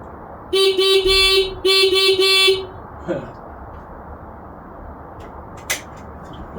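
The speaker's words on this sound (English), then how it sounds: "Why does playing with the horn always make me laugh?" Horn on a Suzuki DR125 motorcycle being restored, sounded in two bursts of quick honks close by, followed by a few faint clicks and knocks in a quiet garage.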